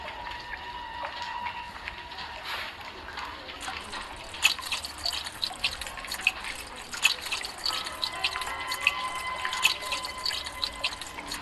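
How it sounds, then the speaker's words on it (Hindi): Fuel poured into a boat in the horror video game Granny 2: a steady watery trickle with faint dripping, continuous and fairly quiet, with occasional game sound effects and no talk. "इसमें फ्यूल डाल देते हैं पहले बोट में।"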